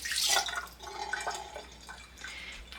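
Clear rinse water poured off a batch of homemade butter churned from store-bought cream, splashing hardest at the start, then trickling and dripping quietly for a couple of seconds.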